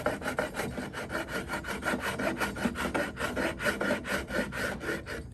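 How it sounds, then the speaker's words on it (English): A contour tool rasps along the grain of a wooden piece in quick, steady back-and-forth strokes, about four per second, close and loud with no talking. "when you hit stuff like that, use your contour tool."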